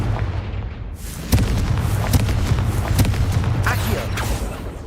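The Confringo blast curse from Hogwarts Legacy goes off in a sharp booming burst, followed by a run of repeated punchy impacts, crackles and creaking debris that stay loud for several seconds.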